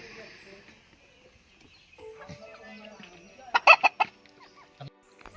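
Chickens on a small poultry farm let out a short burst of loud, close clucking near the end, over a quieter background of soft farmyard noise and scattered distant bird sounds.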